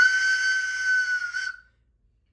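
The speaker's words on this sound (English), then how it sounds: "Went Ivor's whistle." A steam whistle blows one steady, shrill tone for about a second and a half, then cuts off to silence.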